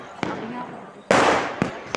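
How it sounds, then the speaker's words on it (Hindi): Diwali firecrackers set off from a decorated rooftop: a few sharp bangs, one big burst followed by a crackling fizz and two short pops, moderately close over a low background hum. "पटाखे करके पीछे हम लोग पटाखे जला रहे हैं"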